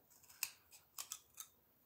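Scissors snipping through a wooden popsicle stick for a craft boat, several soft, sharp cuts and clicks close by in a quiet room.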